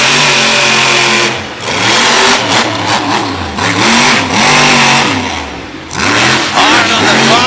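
A monster truck engine revs hard at a competition event, repeated loud close surges of rising and falling pitch with a brief dip between throttle bursts.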